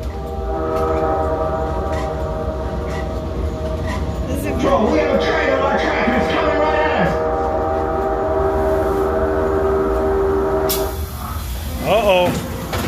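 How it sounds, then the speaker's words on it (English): A train approaches along the track, its steady rumble swelling in the middle as a long, sustained horn tone sounds throughout, ending with a sharp squealing burst near the end. "We have a train on our track and it's coming at us."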